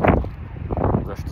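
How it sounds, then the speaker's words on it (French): Wind buffeting a microphone outdoors, loud low rumbling gusts swelling and easing over a second or so, with a voice faintly underneath. "il y a du vent"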